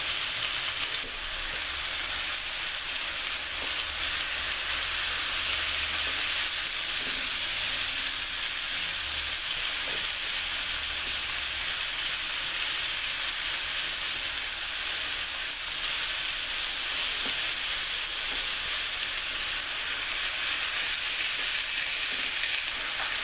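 Salisbury steak patties cook in mushroom gravy in a pan, giving a continuous close bubbling sizzle and hiss that runs unbroken, with occasional faint stirring sounds and no talking.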